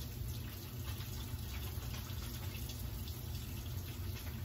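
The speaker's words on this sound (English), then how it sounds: "So I'm going to put a little detergent in my hand and rinse it off" Tap water runs steadily as a coffee pot is rinsed with detergent in a kitchen sink, a soft continuous splashing rush heard alone at low level.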